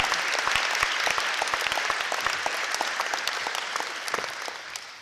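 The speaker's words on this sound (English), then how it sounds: "How about another round of applause for these guys?" A crowd claps steadily with dense, even applause that tapers slightly toward the end.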